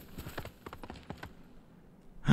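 A horse gallops in the Ghost of Tsushima video game, hooves giving quick, faint rhythmic clip-clop beats that pause briefly before a louder burst of sound at the end.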